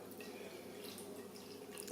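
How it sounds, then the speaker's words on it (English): Ordinary tap water runs steadily into the tray of an ultrasonic jewellery cleaner, a continuous close hiss and trickle of pouring water with no talk over it. "We're just going to cover those with water, normal tap water,"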